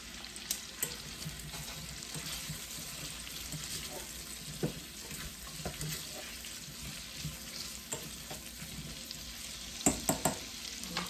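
Whole tomatoes go into a pan of Jamaican-style stewed okra, where they sizzle and fry with a steady crackle, broken by a few sharp clinks and scrapes of stirring. Nobody talks.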